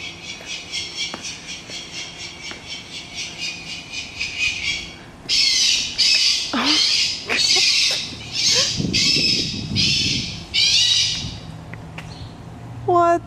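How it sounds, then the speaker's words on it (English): Bird-scaring loudspeakers blast random electronic screeches and squawks, first a rapid pulsing series, then longer harsh shrieks and warbles in irregular bursts, loud and fairly close. "evidently there's fake owls and speakers that do random screeching and beepings"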